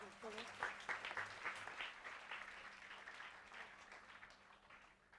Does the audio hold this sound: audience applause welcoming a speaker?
yes